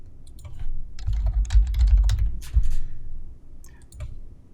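Words being typed on a computer keyboard: close, irregular bursts of clicky keystrokes, dense in the middle and thinning toward the end, with no voices.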